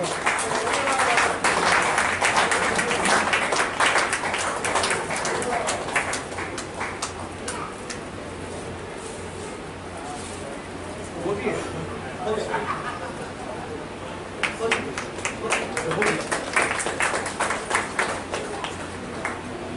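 Audience at a Rotary Club installation and award ceremony claps vigorously for an award winner, dense applause that thins in the middle and swells again near the end, with voices underneath.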